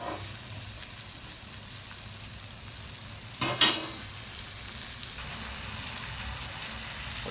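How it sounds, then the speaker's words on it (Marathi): Cluster beans sauté in a pan for gavar bhaji with a steady, gentle sizzle, broken midway by a short burst of stirring and scraping. "शेंगा बी चांगल्या परतू द्यायच्यात आता"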